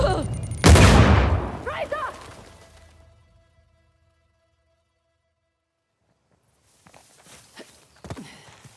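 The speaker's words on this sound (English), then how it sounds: "He's got a shotgun." A single loud shotgun blast goes off in Uncharted: The Lost Legacy, with a booming echo that fades over a couple of seconds. Near silence follows, then faint movement and scuffing sounds.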